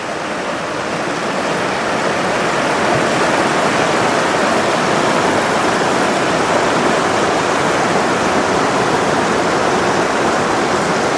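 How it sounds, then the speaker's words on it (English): The Wakha river, a tributary of the Shigar, flows past Mulbekh in Ladakh with a steady, loud rush of water that stays even and broadband for the whole stretch, close by and with no voices. "Right now we are standing on the banks of river Wakha."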